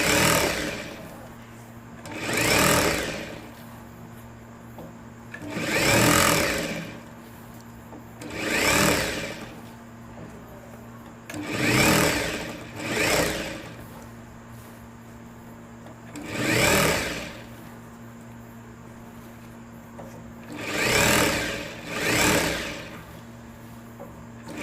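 A sewing machine stitches the waistband of a lehenga in repeated short runs, each burst of whirring stitches rising and stopping with pauses between, close and clear under a faint background hum.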